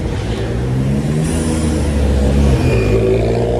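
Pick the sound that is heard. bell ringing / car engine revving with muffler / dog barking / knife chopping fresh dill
car engine revving with muffler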